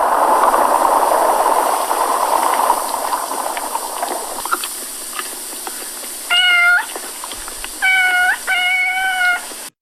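A cat meows in a scene from the film Godzilla vs. the Smog Monster: three clear, drawn-out meows in the second half, loud and close, after a stretch of rumbling, bubbling background noise.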